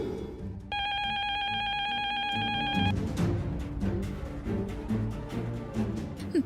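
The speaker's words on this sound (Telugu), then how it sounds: "ఫోన్ వస్తుంది." A telephone rings in a Telugu TV family serial scene, a steady repeating electronic bell tone running for about two seconds over background music, then giving way to the soundtrack.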